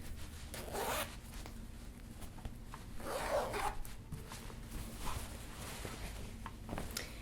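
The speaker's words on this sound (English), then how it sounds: "It has a zipper down the back." Two quick zipper pulls on a skirt's back zipper rasp close by, one near the start and another a couple of seconds later, over quiet room noise.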